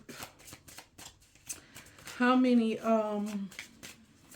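A deck of Doreen Virtue Angel Therapy oracle cards is shuffled in quick, close riffling bursts, while someone talks and briefly sings over the rustle.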